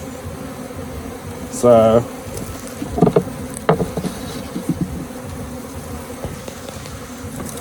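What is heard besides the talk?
honey bees buzzing around hive frames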